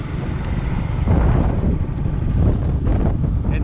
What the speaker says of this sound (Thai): ลมแห้งเนาะพี่น้อง